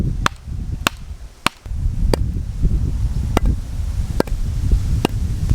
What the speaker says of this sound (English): here's the sound of the dry wood.